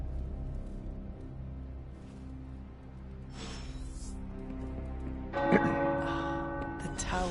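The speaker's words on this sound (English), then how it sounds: "The tower bells are ringing." Church-like tower bells ring out with layered, sustained tones, growing louder and brighter near the end over a low musical background.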